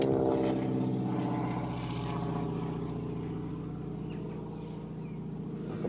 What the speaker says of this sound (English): Like a biplane thing.